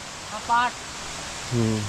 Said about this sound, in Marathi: हे बघा हा इकडे खाली ओढा इथे हा